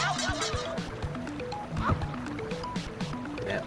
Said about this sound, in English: That falling in the water is a bad thing.